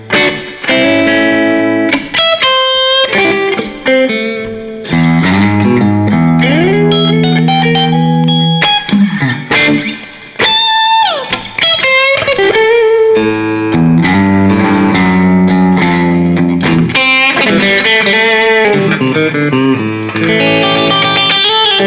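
A new vintage-style Baldacci electric guitar plays loud and crunchy through overdrive distortion, with sustained chords and single-note runs broken by brief pauses.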